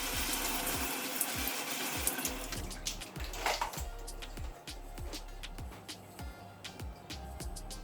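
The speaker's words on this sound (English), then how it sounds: "We can easily do this by washing in the shower." Shower water sprays and splashes steadily over air conditioner filters being washed, with scattered clicks and knocks of handling throughout, close by and with no speech.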